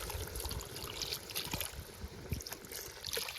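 Water pours into a simmering village-style egg curry in a pan, a steady splashing trickle that stays fairly loud and continuous with no voices.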